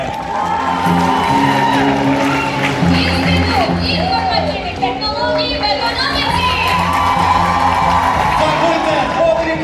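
A festival opening audience at a Kyiv university loudly cheers and applauds as a combined college team takes the stage, with shouts and whoops holding steady and dense throughout.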